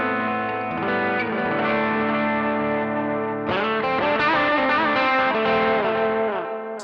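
Electric guitar played through a Joyo Aquarius delay pedal set to strong, prominent repeats: sustained distorted chords ring out, a new chord strikes halfway through, and echoing repeats smear over each note, loud and alone without talk.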